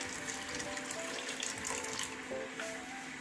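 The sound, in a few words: heated water being poured into a pot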